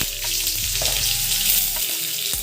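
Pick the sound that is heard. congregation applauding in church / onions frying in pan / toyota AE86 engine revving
onions frying in pan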